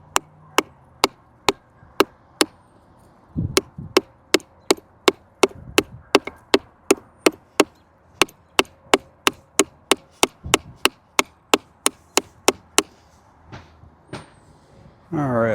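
An Eafengrow EF133 full-tang fixed-blade knife chops into wood with a long run of sharp, evenly spaced impacts, loud and close, and a voice can be heard briefly among them.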